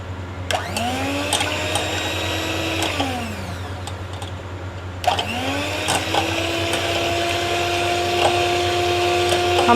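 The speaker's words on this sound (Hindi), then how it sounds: "ये बीटर की मदद से इनको मैं ना मिक्स करूँगी" A handheld electric beater whips eggs in a bowl for a moist chocolate cake batter, whining up to speed, running steadily, stopping briefly, then starting again. The motor is close and loud, over a low background hum.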